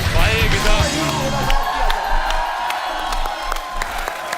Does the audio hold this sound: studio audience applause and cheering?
yes